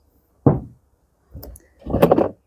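Door of a Volkswagen ID. Buzz Cargo electric van: a solid thunk, then a pause, then two more mechanical clunks and rattles as it swings open, close and clear with no talk.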